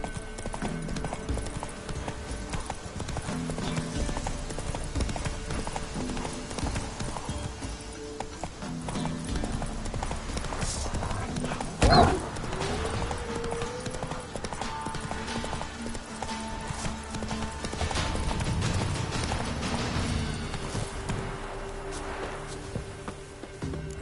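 Roach, a horse in The Witcher 3, gallops with a steady, close clip-clop of hooves, a brief louder burst midway like a snort or whinny, and faint insect-like buzzing in the background.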